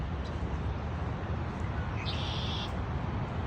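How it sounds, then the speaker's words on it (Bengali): Birds call by a lake on the shore of the St. Lawrence. A thin, steady call rises briefly over constant outdoor background noise, with a few faint, distant chirps around it. "পাখির ডাক নিশ্চয়ই শুনতে পাচ্ছেন।"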